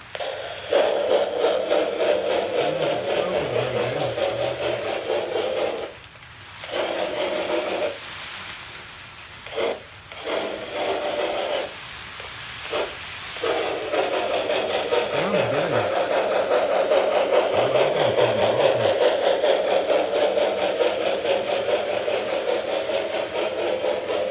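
Lionel 4-6-4 C&O Hudson Jr toy locomotive with conventional Railsounds, running with a steady buzzing motor whir and a mechanical chuffing drone that dips briefly a few times, heard close for the whole stretch.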